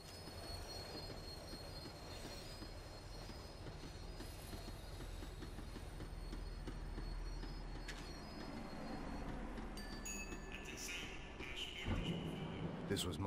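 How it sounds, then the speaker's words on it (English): A tram in the video game Max Payne 3 slows down, its heavy low rumble and squealing wheels running steadily, with a louder screech and clatter near the end. "Tram was slowing down, and I'd only just gotten on board."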